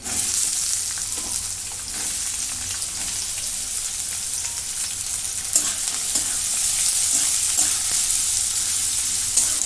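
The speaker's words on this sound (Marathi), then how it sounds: "आता कांदा पण चांगला लालसर भाजून घेते" Chopped onion frying and being stirred in a pan while cooking a Maharashtrian fenugreek greens dish, a steady close hiss of sizzling oil throughout with occasional soft scrapes of a spoon.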